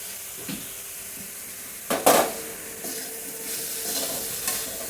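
A coconut, sugar and milk powder filling is stirred in a pan, with a soft continuous sizzle and a few sharp spoon scrapes and knocks against the pan, close up and fairly quiet, with no talking.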